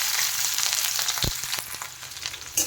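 Chopped onion frying in hot oil with dry chillies and nigella seeds, a close crackling sizzle with small pops and a brief clatter, no speech.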